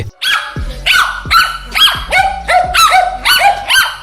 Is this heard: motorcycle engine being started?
no